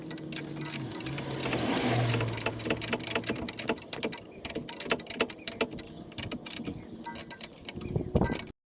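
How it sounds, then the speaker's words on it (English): Tightening the lock nut on a tie rod of a 2000 Subaru Forester, a close run of rapid metallic ratchet clicks and tool clinks in irregular bursts, with brief pauses between the bursts. "Putting on the nut and just tighten it up tight."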